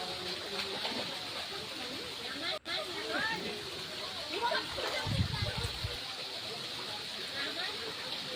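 Cold, clean spring water flowing and splashing steadily at a cool bathing spot, with voices chattering in the background and a brief low splash near the end.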